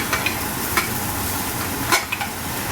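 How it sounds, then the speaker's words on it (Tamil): Raw mango pieces sautéing in a pan for maanga pachadi, a steady sizzle with a few sharp stirring scrapes and clinks from a spoon, close by and without talk. "இப்போ அந்த மாங்காயை போட்டு வதக்கிறேன்."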